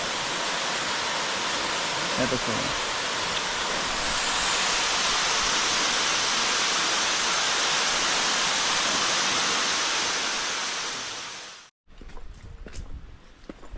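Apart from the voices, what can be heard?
waterfall on an island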